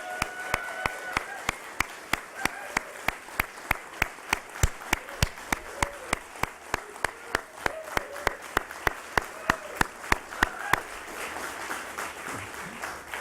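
Audience at a Nasdaq closing bell ceremony clapping in unison, sharp regular claps about every third of a second keeping a steady beat that stops near the end, with softer crowd noise beneath.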